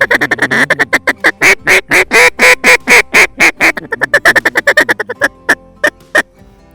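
A hand-blown duck call runs a feed call that mimics ducks feeding on water, a loud, close, rapid string of short quacking notes that stutter and slow toward the end.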